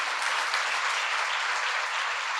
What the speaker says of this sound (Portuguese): Você pode aplaudir a Jesus pela vida dela?